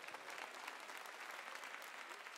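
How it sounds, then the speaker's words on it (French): Concert crowd applauding at a live DJ show in Saint-Brieuc, a steady, dense wash of clapping that sounds fairly distant and continues evenly throughout. "vous pouvez vous applaudir encore une fois"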